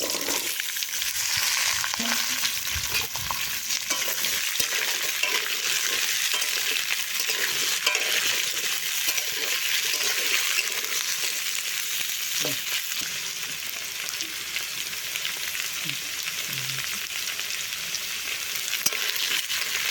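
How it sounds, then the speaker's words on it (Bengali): Small-cut cauliflower, beans, carrot and potato fry together in a pan, giving a steady, close sizzle that runs unbroken for the whole stretch with no talking. "এবার এগুলোকে এক এক করে ভেজে নেব সবজিগুলো একসঙ্গে ভেজে নেব"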